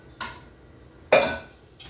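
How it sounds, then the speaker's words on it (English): Metal mixing bowls are swapped on a kitchen counter while making apple sauce cake batter, giving three short clinks and clatters, the middle one loudest with a brief ringing tone, the others lighter and quicker. "I'm actually going to switch bowls."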